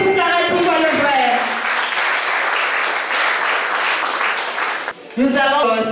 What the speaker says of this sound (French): Applaudissez pour Karel Tingwa Levray